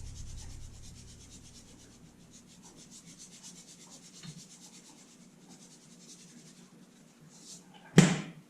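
Salt and pepper seasoning being rubbed by hand into raw whitefish fillets, a soft continuous rubbing and mixing at close range, ending with a sharp knock near the end.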